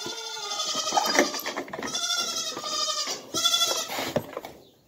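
A dairy goat bleats loudly and close, several wavering calls one after another with no talking.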